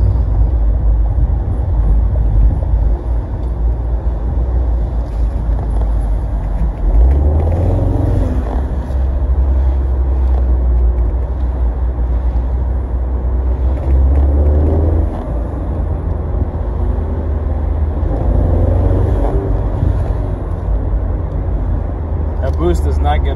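A 2018 Ford Mustang EcoBoost Convertible on the road: a loud, steady engine and road rumble with low surges as it accelerates and shifts, and a person talking throughout over it.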